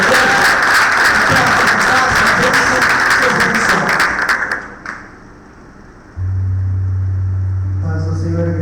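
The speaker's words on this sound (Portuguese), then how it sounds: "Você pode aplaudir o Senhor." A church congregation claps loudly and steadily for about four seconds before the applause fades out, leaving quiet, then a low electronic hum enters near the end.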